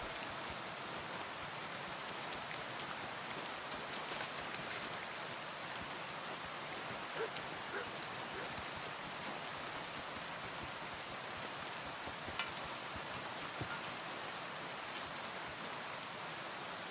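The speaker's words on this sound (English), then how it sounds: "It's raining." Steady rain falls in the medieval open world of Kingdom Come Deliverance 2, a continuous even hiss of drops on surfaces with a few faint individual patters, no voices over it.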